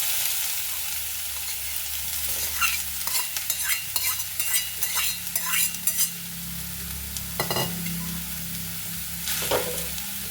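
Grated carrot and beetroot fry in homemade ghee for a carrot payesh, a steady close sizzle broken by scraping stir strokes from the middle onward, with no voices.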